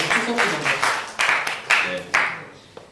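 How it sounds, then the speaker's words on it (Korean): Church youth congregation applauding to welcome a newcomer during a worship service. Clapping rises in waves with a few sharper bursts, and a voice speaks over part of it. "굉장히 박수 한번 부탁드리겠습니다"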